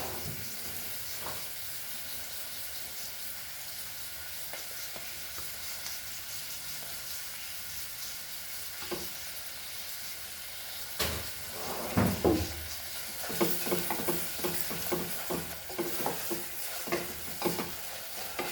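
Onion and ginger garlic paste frying in a pan for Goan potato cafreal dal: a steady hiss of sizzling oil, joined later by repeated close scraping strokes of a spoon stirring.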